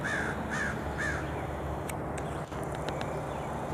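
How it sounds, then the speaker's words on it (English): A crow or raven cawing three times in quick succession at the start, moderately distant, over steady outdoor background noise on a nature walk in Athabasca, Canada. "That's either a crow or a raven."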